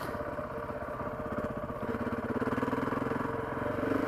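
KTM 690 or Husqvarna 701 single-cylinder motorcycle engine running nearby, a steady rhythmic thumping idle that swells slightly louder toward the end, with no talk.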